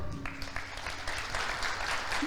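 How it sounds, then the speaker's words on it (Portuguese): A church congregation claps together, a steady wash of moderate applause lasting a couple of seconds with a faint voice underneath. "Você pode aplaudir o Senhor?"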